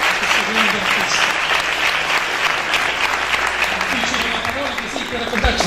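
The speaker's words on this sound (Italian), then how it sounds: "un applauso ancora a questo grande artista" A theater audience at a Sicilian-language staging of Romeo and Juliet applauds actor Mario Pinato with dense, sustained clapping that fills the room throughout, and a voice speaks over it.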